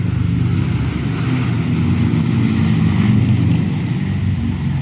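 Moped engines droning steadily during an air raid alert, a continuous low rumbling hum that holds at an even level throughout without a clear pass-by peak.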